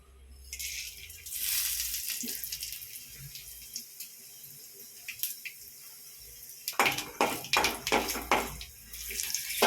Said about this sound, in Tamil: சோம்பு கூட பொரியணும். பொரிஞ்சாதான் நல்லா வாசனை கொடுக்கும்.